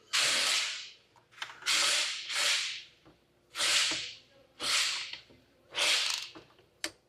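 Hand ratchet turning bolts on a 2016 Hyundai Sonata, heard as six separate bursts of rapid clicking, close and fairly quiet, with short pauses between strokes and no talking.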